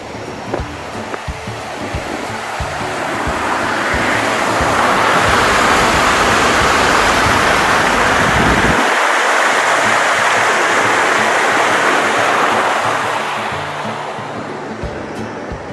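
Treated wastewater from a treatment centre pours steadily out toward a river, a loud, broad rushing of water that swells and then eases off, with a few faint knocks early on.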